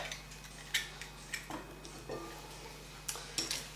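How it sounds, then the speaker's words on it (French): Eggs cracked flat on a kitchen surface during a home cooking lesson: several sharp, light taps and cracks spaced irregularly, faint and close against a quiet room hum. "Normalement, on ne casse pas les œufs sur le coin, mais à plat."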